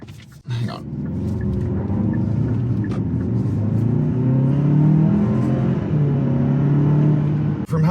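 Turbocharged engine of a 2022 Hyundai Santa Fe with an eight-speed dual-clutch automatic, droning steadily and rising in pitch as it accelerates, heard from inside the cabin with no talking.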